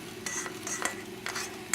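Cabbage for kimchi stirred as it cooks down in a pan, with a few soft scraping strokes and a light sizzle, quiet and close.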